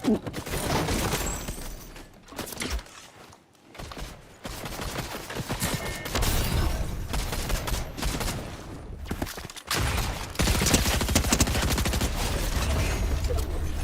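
Pump shotgun blasts and other gunfire in a Fortnite match crack out in dense bursts over a busy layer of game effects, loud and close for most of the stretch with a brief lull early on.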